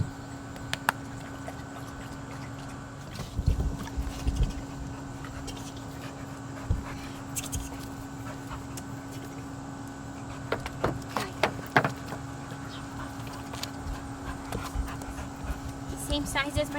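A puppy at an animal shelter pants and whimpers softly nearby under a steady background hum, with scattered clicks and knocks as people talk to it.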